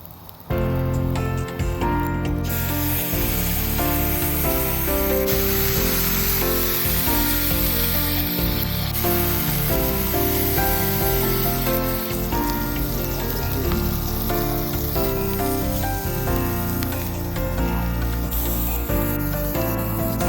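Peanut butter bacon burgers frying on a hot surface, giving a loud, dense, unbroken sizzle and spatter that holds steady for the whole stretch.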